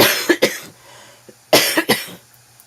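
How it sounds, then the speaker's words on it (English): Two pairs of sharp, close coughs separated by a short pause, with faint throat noise between them. "hang on a second, I got a cough."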